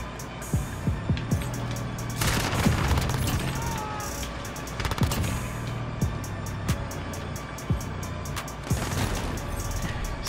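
Gunfire in a video game: repeated sharp shotgun and gun blasts scattered through the clip, some close and loud, others quicker bursts, over a continuous game background rumble.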